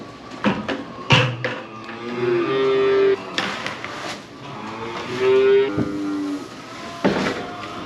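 Cattle mooing at feeding time after silage and grain are dumped in, several long low moos from different animals, close and loud, alone without talk.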